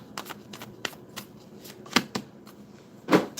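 Cards being shuffled up close: quick, crisp riffles and taps in an irregular patter, fairly quiet, with no talking.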